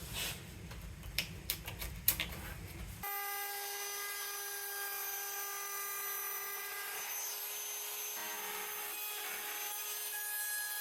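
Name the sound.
router trimming edge banding on plywood frames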